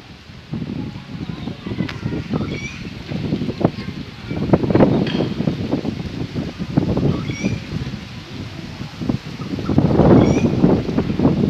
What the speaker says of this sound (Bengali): ভারী অদ্ভুত ভাবে হাওয়াটা দিচ্ছে।